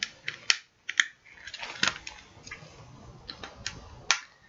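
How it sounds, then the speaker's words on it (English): Tape is peeled off a CD case, giving a series of sharp dry ticks and crackling snaps at irregular intervals, close and fairly loud, with no speech. "Getting this tape off"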